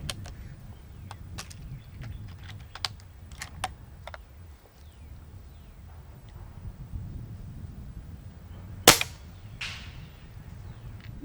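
Sharp, snappy shots from an Avenger .25 caliber bullpup air rifle fitted with its stock OEM shroud, at a max-power tune, outdoors; one loud crack stands out near the end amid scattered clicks and a steady low background rumble.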